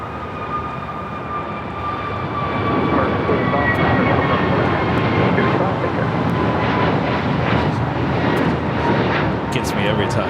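A Delta jet takes off from runway 25 right at LAX, its broadband engine roar swelling after the first couple of seconds and holding loud and steady, with radio voices talking over it.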